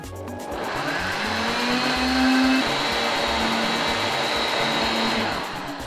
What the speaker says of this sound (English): this is blended, my tomatoes, pepper and onions